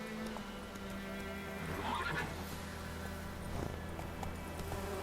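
Roach, the horse in The Witcher 3 video game, whinnies clearly while its hooves clip-clop in a galloping rhythm against a soft outdoor ambience.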